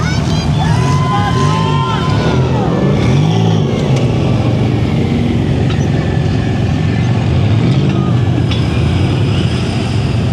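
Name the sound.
off-road car engine revving while reversing down steep wall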